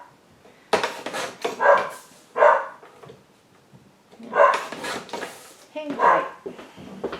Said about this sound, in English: My dog hears something.